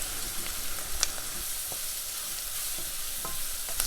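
Chopped garlic goes into translucent onion frying in olive oil in a pan, giving a steady, close sizzle with a few sharp spatters and light stirring scrapes and no talk.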